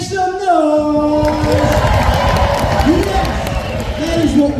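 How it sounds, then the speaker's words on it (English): A cinema audience at a UK film premiere in a large London venue roars with cheering, whoops and clapping, a dense sustained crowd din with some voices and a brief tonal sound early on. "let's stomp, let's cheer, let's clap, make some noise!"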